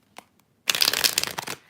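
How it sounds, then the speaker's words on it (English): Tarot cards riffle-shuffled up close: a few faint taps, then a dense, crisp burst of fluttering card sounds lasting about a second. "One more shuffle here."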